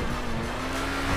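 Bugatti race cars speed by in GTA 5, a loud steady engine drone with a sustained pitch that rises slightly toward the end, close and continuous over a short burst.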